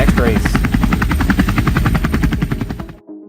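Helicopter chopper cam hovering over Toon Track Speedway, a loud, close, rapid rotor thumping that beats steadily for about three seconds before cutting off abruptly.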